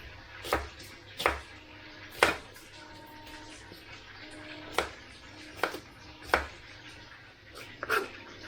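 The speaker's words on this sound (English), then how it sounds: "slice these round, thin slices" Knife cutting food into round thin slices outdoors while cooking freshly caught snook in Hanover, Jamaica, a series of about nine sharp, separate chops at an irregular pace against a faint background, with a dog barking nearby.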